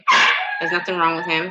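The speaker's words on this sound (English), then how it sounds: "So you guys will hear the dog in the background" A small dog yips and whines in high, drawn-out barks close by, overlapping with a person talking.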